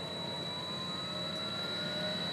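A Webasto diesel heater's fan in its cool-down cycle gives a steady, continuous whoosh of blowing air with a faint high whine, unchanging throughout, no voices.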